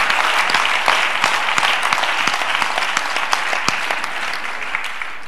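A church convention congregation claps steadily and loudly, dense sustained applause with scattered sharper hand claps throughout, no voices standing out.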